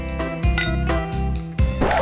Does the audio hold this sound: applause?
no